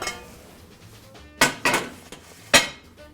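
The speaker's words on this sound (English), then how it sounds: "I'm gonna take the lid off the Dutch oven" Lid lifted off a hot Dutch oven: a few sharp metallic clanks and scrapes, three distinct loud hits close by with quiet between.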